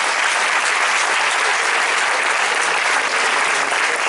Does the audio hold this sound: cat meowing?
no